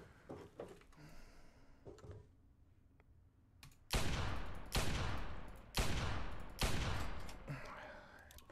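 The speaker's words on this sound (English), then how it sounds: "I do try and find every excuse to shoot this thing" Gun in Fallout 3 firing four loud, heavy blasts spaced about a second apart, each ringing out with a long decaying tail, after quieter scuffling and a few soft thuds.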